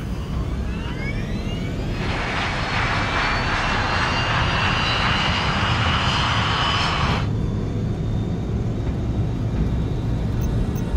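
Engines of a Korean Air Boeing 747 cargo jet during its takeoff roll, a loud constant roar under a steady low rumble, with a brighter high whine rising for several seconds in the middle and then cutting away.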